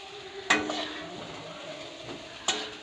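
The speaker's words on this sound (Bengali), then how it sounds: "এখন দেখো নাড়া দিয়ে, আবার একটু নাড়া দিয়ে নিচ্ছে স্নিগ্ধা" Turmeric-spiced food stirred in a cooking pot, a low sizzle under two sharp metallic scrapes of the spoon against the pot about two seconds apart.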